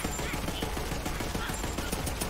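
Rapid gunfire in the video game Borderlands 3 while players shoot at a loot tank, a dense, continuous stream of shots under a busy mix of game noise.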